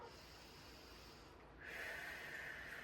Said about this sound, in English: We'll take a long inhale, exhale.